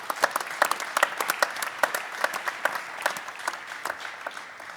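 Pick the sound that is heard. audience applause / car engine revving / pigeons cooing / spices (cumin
audience applause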